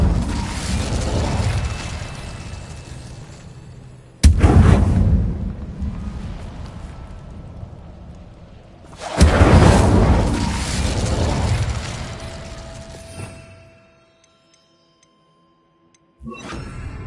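An Incendio fire spell in Hogwarts Legacy, cast near a Thestral nest, produces two loud sudden booming bursts several seconds apart. Each blast is followed by a long roaring, crackling decay that fades into near silence before another hit at the end.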